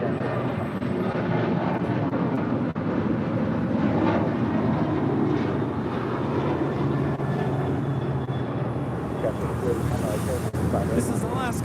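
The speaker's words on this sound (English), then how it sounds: "This is Alaska Airlines 1072 departing to Seattle, Washington on a 737-900ER." Steady broadband roar of an Alaska Airlines Boeing 737-900ER departing LAX for Seattle, loud and continuous throughout, with people talking over it.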